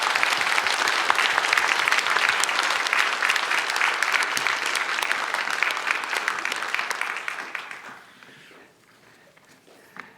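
A church congregation at a Friday evening worship service applauds warmly to welcome a missionary; dense, steady clapping fills about eight seconds before fading to near silence.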